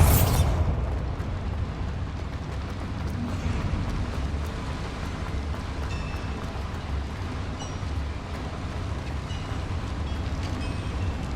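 A Bombarda exploding spell detonates in the Hogwarts Legacy video game: a sharp blast at the start, then a long, steady rumbling roar with scattered crackles and debris lasting several seconds.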